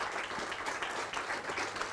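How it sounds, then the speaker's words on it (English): An audience at a conference closing ceremony claps in steady, dense applause throughout, moderately loud and without voices. "with a big round of applause, I mean louder than this."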